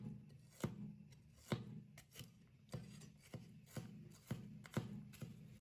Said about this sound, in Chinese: 再来几瓣大蒜，切小块后再剁一剁